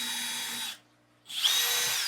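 A power drill with a chamfer bit whines loudly into a wooden peg game board, stops for about half a second, then spins up again in a second close, steady burst.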